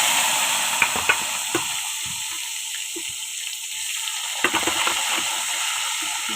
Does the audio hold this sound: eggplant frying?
yes